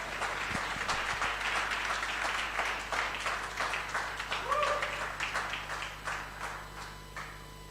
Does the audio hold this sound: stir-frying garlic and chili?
no